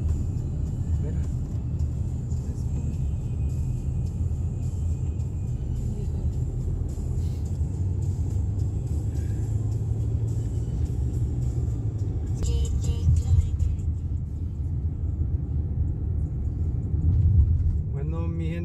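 A car drives toward a beach parking lot in Galveston, Texas, its low road rumble and engine hum steady and continuous under occasional voices, with brief rattles near the end.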